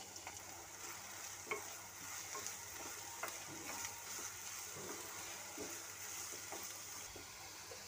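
Chopped onion and green chilli frying in hot oil for an egg curry, a steady broad sizzle with occasional spatter pops and faint utensil scrapes, close and continuous without any talk.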